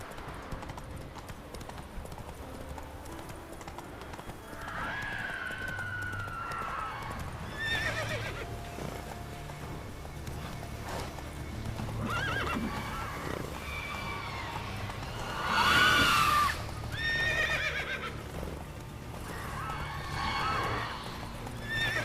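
Horse hooves clip-clopping at a gallop in The Witcher 3, with whinnies and neighs breaking out at intervals over steady game ambience, loudest near the middle of the run.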